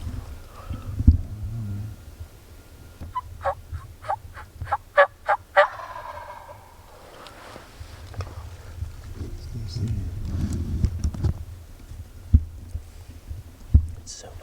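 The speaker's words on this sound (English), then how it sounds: "About to gobble again." A wild turkey gobbler sounds off with a rapid, rattling gobble in the middle distance, followed by softer clucks and low rumbling handling noise, with faint talk around it.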